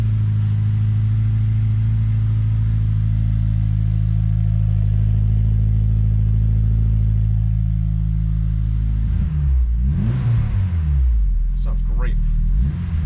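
A Honda motorcycle engine runs at a loud, steady idle close by, then revs up and down in a few quick bursts near the end, with no talking over it.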